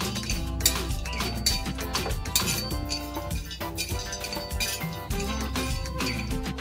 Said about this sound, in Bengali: এখানে দিয়ে দিচ্ছি বাদাম আর দিয়ে দেব গোটা জিরে, দিয়ে নাড়াচাড়া করবো শুকনো খোলায়